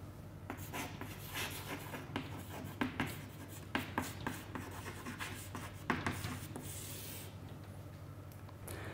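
Pen or marker strokes across a board or sheet as a velocity profile is drawn by hand in a quiet lecture room, with soft scratchy rubbing and brief taps coming in irregular bursts, faint and close.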